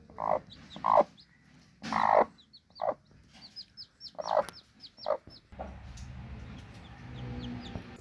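Chickens, a mother hen with her chicks, clucking in short repeated bursts close by, with high thin peeps from the chicks scattered throughout and a rougher stretch of noise near the end.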